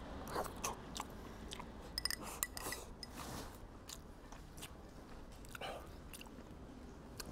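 Close, soft chewing and crunching of steamed fish with garlic black bean sauce over rice, steady mouth sounds at low volume with no talking.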